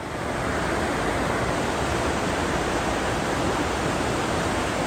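Rushing river beside a hiking trail on the Foothills Trail after heavy overnight rain, a steady broadband hiss of flowing water that fills the scene at even, fairly loud level with no voices.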